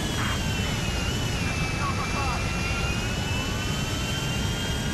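Steady, loud roar of a jumbo jet airliner's engines in GTA V, a constant broadband rush with faint high whine, unbroken for the whole stretch with no talk over it.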